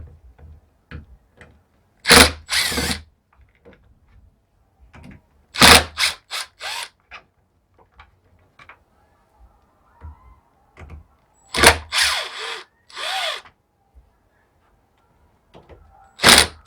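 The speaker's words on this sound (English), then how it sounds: "Then I'm going to remove these 4 screws." A power driver removes screws from a keyless RV door latch, producing several short loud whirring bursts separated by pauses and small clicks, close by with no talking.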